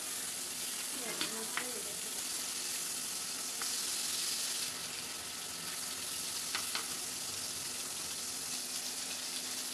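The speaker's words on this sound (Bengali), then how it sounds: "তেল মনে হচ্ছে গরম হয়ে গেছে, এখন মাছটা দিয়ে দিচ্ছি।" Fish sizzles in hot mustard oil in a pan, a steady bright hiss with a few faint clinks and stirring sounds, heard close in a quiet kitchen.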